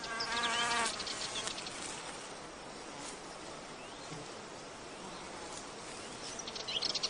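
A male wasp drawn to an orchid while trying to mate, its buzzing hum droning steadily close by, louder at the start and end, in a natural outdoor setting without talk.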